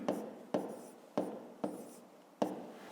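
Pen or chalk strokes writing numbers during a fifth-grade maths exercise, five distinct scratchy strokes in a steady rhythm, close and alone with no talking.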